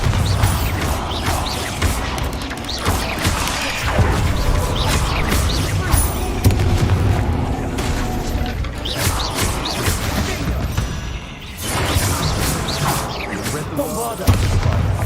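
Bombarda spell explosions in the video game Hogwarts Legacy: repeated loud booms, crashes and thuds burst through a dense, clattering combat mix, with a voice speaking at times between the blasts.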